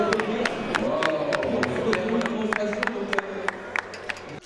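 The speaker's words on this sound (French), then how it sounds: "d'un public qui applaudit" Crowd at a spinning top festival in Loon Plage, applauding with scattered sharp claps over a murmuring babble of voices and a cheer or two, with people talking under it.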